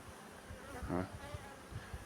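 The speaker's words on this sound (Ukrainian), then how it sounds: "Ось я на льотку в них стаю. От, що все вони літають." Honeybees flying around the entrance of a hive built from a 2024 package colony, a steady close buzzing drone that swells briefly in the middle with no voices.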